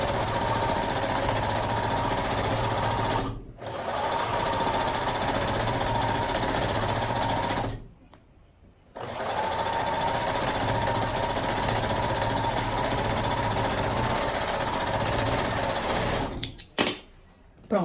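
A sewing machine runs steadily, stitching three fabric layers together for a clothing set, its fast rhythmic whirring and needle chatter continuing in long runs broken by two short pauses and ending with a few stuttering stops.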